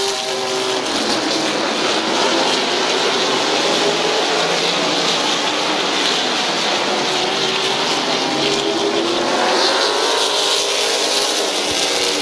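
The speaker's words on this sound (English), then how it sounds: "Problems with the 77 of Bear Swartz. And the 169 of DeVore going to have the race lead" Race cars circle the Midvale Speedway track, a dense, continuous engine roar that swells and fades slightly as the field passes, steady and loud with no clear gaps.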